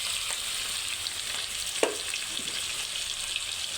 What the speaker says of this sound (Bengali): এটা আমি এবার সুন্দর করে ভেজে নিব